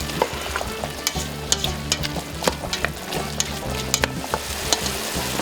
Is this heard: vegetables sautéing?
yes